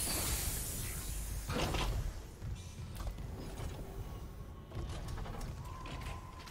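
An airlock in the Dead Space video game cycling out of vacuum: a run of mechanical clanks, creaks and ratcheting gear noises over a low hum, with several distinct thuds spread through the sequence and no voices.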